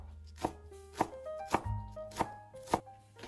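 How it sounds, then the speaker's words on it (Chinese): A knife chops an onion into chunks on a cutting board, giving five sharp, evenly spaced thuds at close range with quiet background music. "把洋葱切成块备用。"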